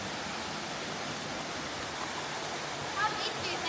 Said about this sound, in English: It's the best waterfall in all of the Ozark National Forest.